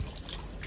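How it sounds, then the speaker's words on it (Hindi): Water from a tap trickling and splashing steadily into a child's paddling pool outdoors, a soft continuous close-up flow with faint dripping and no voices. "इतना पूल भरने में 1 घंटा लग जाएगा जिस स्पीड से पानी आ रहा है।"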